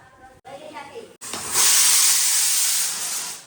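A kitchen pressure cooker lets off its third whistle, bursting into a loud, sustained hiss of escaping steam that holds for about two seconds, preceded by a moment of voices talking.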